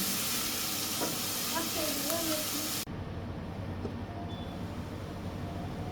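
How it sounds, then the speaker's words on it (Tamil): Ginger garlic paste sautéing in a pan for a white chicken curry, a dense, even sizzle that drops abruptly to a quieter simmering hiss halfway through. "இஞ்சி பூண்டு பேஸ்ட்டு 5 நிமிஷம் நல்லா வதங்கிடுச்சு."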